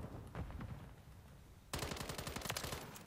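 BAS-B battle rifle gunfire in Modern Warfare 3, with a few scattered shots followed by a loud, rapid sustained burst of close automatic fire and no talk.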